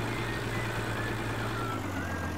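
Simulated Massey Ferguson 275 tractor engine in Farming Simulator 15, labouring steadily as it slips in deep red mud, a loud continuous low drone with a faint higher whine, no talk.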